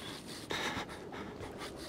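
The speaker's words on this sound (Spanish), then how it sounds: "El tío se escucha la respiración del tío." Heavy, rasping breaths of an enemy in the horror game Outlast, close and steady with a sharper gasp midway, alone without talk.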